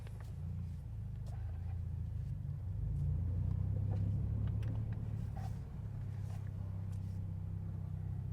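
A Toyota GR86 is driven on the road, heard from inside as a steady low engine and road rumble that swells slightly midway, with faint clicks and rattles from the cabin above it.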